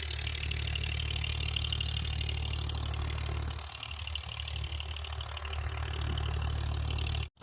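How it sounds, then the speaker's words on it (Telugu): Dewatering pump motors run at the Amaravati High Court construction site, giving a steady droning mechanical hum that dips briefly midway and cuts out abruptly at the very end. "మోటార్లు అయితే ఆన్లో అయితే ఉన్నాయి."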